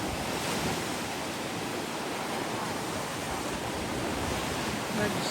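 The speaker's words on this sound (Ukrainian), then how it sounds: "Дивіться, ми прийшли на ось цей пляж, називається Медуза. І дивіться просто, які волни." Sea waves crash and surge at Medusa beach in stormy weather, a dense, steady roar of surf with wind rushing across the microphone, loud and continuous throughout.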